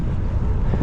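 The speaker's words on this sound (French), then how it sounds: "Avec le vent contre c'est pas facile." A headwind buffets the microphone of a lone cyclist on a long-distance ride, making a loud, close, continuous low roar and rumble that fills the whole moment.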